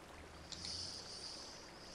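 Flowing water in the Minecraft video game makes a steady, soft broadband rush that holds evenly for the whole stretch, with no voices over it.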